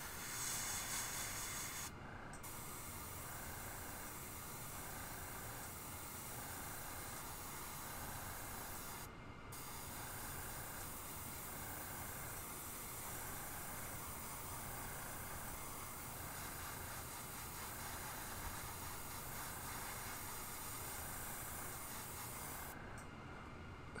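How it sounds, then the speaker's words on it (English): Airbrush sprays paint through a stencil onto a fishing lure, a steady close hiss that runs on and on with a few brief breaks between passes. "Again, spraying through a stencil"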